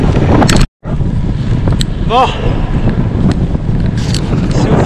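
Cold headwind buffets the microphone on a winter gravel bikepacking ride in Flanders, a loud continuous rush with a brief dropout and a short spoken word.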